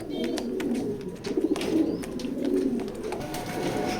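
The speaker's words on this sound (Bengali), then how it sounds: "তো আমার হাতে যে কবুতরটা দেখতেছেন" A white racing pigeon coos close by in a loft. The low, rolling coos are repeated steadily over a soft background of other birds.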